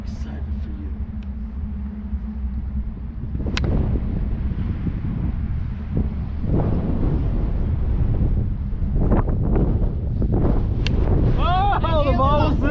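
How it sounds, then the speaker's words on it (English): Strong wind gusts buffet the microphone outdoors at a baseball batting practice, a steady low roar that swells and rumbles for the whole stretch, with a few faint knocks and a brief squeal near the end. "suddenly got super windy"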